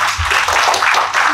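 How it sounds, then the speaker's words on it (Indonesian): Property seminar audience clapping, a brief, close burst of several quick hand claps. "Tepuk tangan dong Bu."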